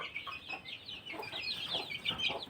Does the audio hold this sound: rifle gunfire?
no